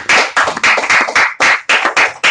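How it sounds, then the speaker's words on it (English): Close, loud hand clapping from a small group at a comedy podcast taping, a dozen or so sharp bursts in an uneven rhythm with brief gaps between them. "Clap."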